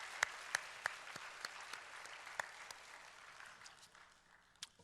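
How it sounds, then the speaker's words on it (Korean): A small congregation at a Sunday church service claps to welcome newcomers, sparse distinct handclaps scattered over a soft, thin background of applause. "박수로 환영합니다"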